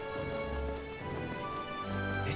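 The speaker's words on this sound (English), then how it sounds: "This rain just ruthless." Heavy rain pours down in the video game Metaphor: ReFantazio, a dense, steady wash of falling drops heard alone with no voices over it.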